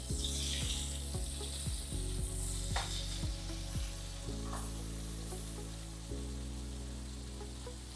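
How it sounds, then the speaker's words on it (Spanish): Onion sautés gently in melted butter and oil with a steady soft sizzle throughout, close and fairly quiet, with low tonal hums and a few clicks and knocks beneath it and no voices. "Vamos aquí a pochar la cebolla."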